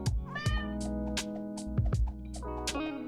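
Repeated cat meows in the cute idle game Chonkers, several short close meows in quick succession over a light game background tune.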